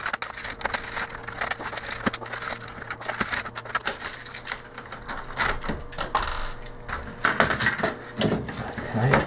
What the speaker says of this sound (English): So we need to take the keyboard off.